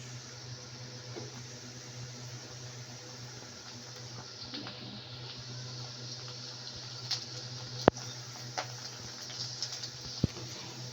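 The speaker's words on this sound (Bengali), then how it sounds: "এখন আমি ফুচকাগুলো ভেজে নিচ্ছি গরম তেলে" Fuchka puris fry in hot oil with a steady, close sizzle and bubbling over a low constant hum, broken by a few sharp clicks near the end.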